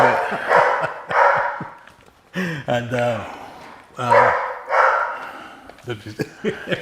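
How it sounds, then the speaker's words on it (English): A dog barks in short, loud bursts, several times in quick succession, while people talk over and between the barks. "that's my dog. He ain't gonna do anything, but he lets us know if something's happening."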